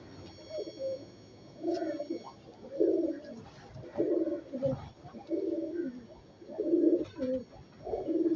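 Pigeons, a keeper's pet birds, coo in repeated low throaty phrases, rising and falling in a steady rhythm at moderate distance, with no talking over them.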